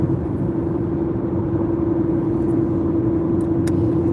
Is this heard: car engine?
yes